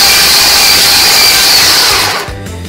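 An electric stand mixer churns cookie dough at gentle speed, a loud steady whirring motor hum close by that cuts off near the end.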